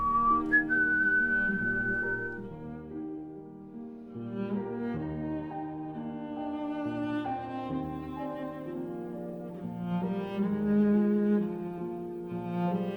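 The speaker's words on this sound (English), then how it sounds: "You know I can't whistle. That's why I'm asking you to do it." A person whistles a slow melodic tune alone, clear and fairly quiet, with held notes and gentle phrasing.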